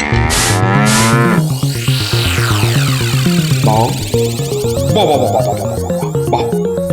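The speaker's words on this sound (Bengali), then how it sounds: "কি চমৎকার ষাঁড়, কি নধর দেহ, যেন তেল চুইয়ে পড়ছে" A plump, glossy bull in an animated cartoon moos in loud, drawn-out bellows over layered background music, the calls rising and falling close up.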